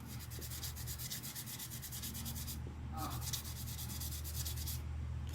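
A gyro compass pump rotor from an Anschutz Standard 20/22 is rubbed by hand to clean off discoloration, giving close, continuous rapid scrubbing strokes over a steady machinery hum, with a couple of brief pauses.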